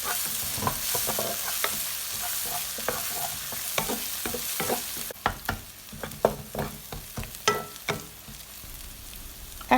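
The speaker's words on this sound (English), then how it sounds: "Using oil in the pan, add the chopped garlic. Add red pepper. Stir fry until you can sense the aroma." Chopped garlic and red pepper stir-fried in oil in a pan, a continuous close sizzle broken by repeated scraping strokes of a spatula, louder and more distinct in the second half.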